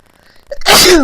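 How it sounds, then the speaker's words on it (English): A single loud sneeze bursts in close to the microphone after a brief quiet breath, sharp onset then a sustained noisy blast. "Excuse me, sneezing there."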